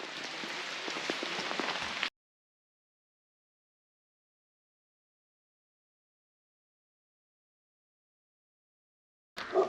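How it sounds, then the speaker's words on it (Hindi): Heavy rain pours down with a dense, loud, close rush on the Rudranath trek in the Panch Kedar mountains. It cuts off abruptly after about two seconds, and a faint sound returns only at the very end. "आप देख ही सकते हैं कितनी जोरों की बारिश हो रही है"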